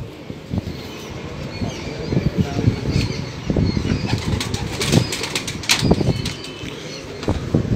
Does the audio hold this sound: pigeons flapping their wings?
yes